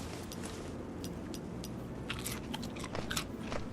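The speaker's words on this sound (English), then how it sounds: "Got a little more food here, so I can eat some more nuts." Nut-eating crunches in the zombie survival game DreadZone: a run of sharp, close bites and crackles over a steady low background rumble, growing denser toward the end.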